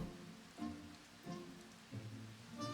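Rain falls in a video game scene, a steady soft patter with low rumbling swells that recur about every half second to second, heard without talk.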